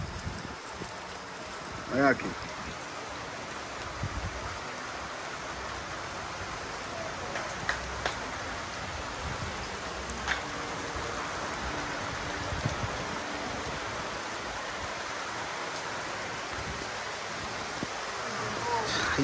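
Steady rain falling outdoors, a dense continuous hiss throughout with a few louder knocks and splashes, while a voice speaks briefly.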